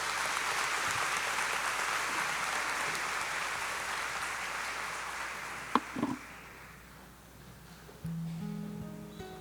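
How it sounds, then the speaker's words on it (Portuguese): A congregation applauds at Catholic Mass, broad steady clapping that fades out over several seconds, with a sharp knock partway through and a sustained organ-like tone entering at the end. "Vamos aplaudir a palavra de Deus."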